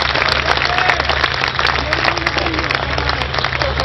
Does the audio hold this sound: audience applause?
yes